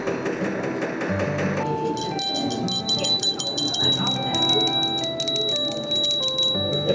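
Several bells ring in a metalwork gallery of Nousaku, a Takaoka maker of cast metal goods. The tones are bright, sustained and overlapping, and a low clatter and handling noise sit underneath them.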